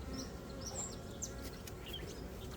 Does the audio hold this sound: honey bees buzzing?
yes